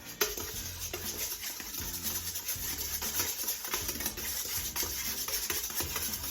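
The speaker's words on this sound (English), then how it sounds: "So we're just gonna whisk this up." A whisk beats ingredients in a bowl while banana chips are being prepared, giving quick, irregular clinking and swishing strokes against the bowl's sides, close but fairly soft, with no talking.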